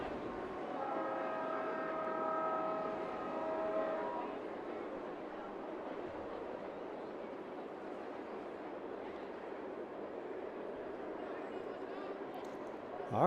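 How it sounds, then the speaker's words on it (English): A train passing in the background at a high school baseball game, heard as a distant rumble with a sustained horn blast early on, under constant faint crowd and field noise while voices talk. "as the train continues to pass in the background, Ramos steps in"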